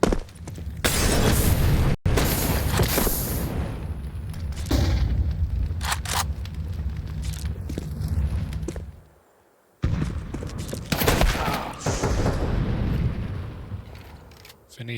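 Grenades burst in a Counter-Strike match at a major esports tournament, with loud booms and crackling blasts over a dense, continuous game soundscape, a brief drop to near silence midway, then more clatter.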